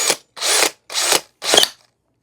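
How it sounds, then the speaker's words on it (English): A power drill spun in reverse to tighten a nut, four close, loud whirring bursts of about a third of a second each, separated by short pauses. "put your drill in reverse and slowly hit the trigger until it tightens up"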